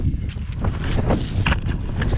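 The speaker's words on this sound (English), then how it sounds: "It's windy. I told you it was windy." Strong wind buffets a GoPro Hero 7 with a Saramonic mic in continuous low rumbling gusts, loud and close, atop a lumber stack, with no one speaking.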